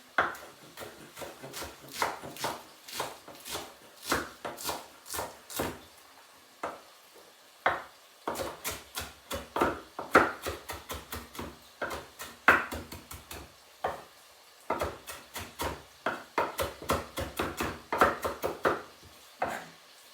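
A knife chops Swiss chard and a little spinach on a cutting board in quick runs of crisp taps, with brief pauses between bursts. The chopping is close and clear with no talk.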